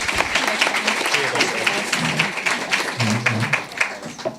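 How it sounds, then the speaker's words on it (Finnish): Applause from a conference audience at a Finnish population-policy event, a dense steady patter of many hands over about four seconds, with voices murmuring and speaking underneath. "Isot aplodit."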